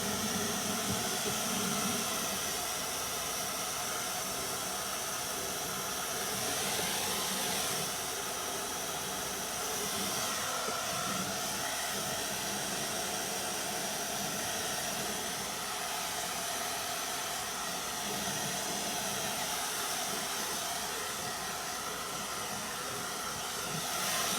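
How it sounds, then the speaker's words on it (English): A hair dryer blows steadily throughout, a constant loud whooshing hiss with a slight motor hum and no pauses. "I've got this blow dryer plugged in over top of me, like up above my head"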